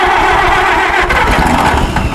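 Old WD-45 tractor engine, left in a barn for ten years, cranking over, a loud, close, continuous rough churning with no talk.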